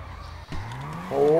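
In the FiveM driving game, a Nissan GT-R R35 drifts with a droning engine, then tires squeal in a rising whine toward the end, over a brief dropout and background sound.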